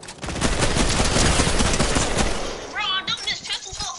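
Rapid pistol fire in a video game, a dense stream of sharp repeated shots over about two and a half seconds, then voices and scattered game noise.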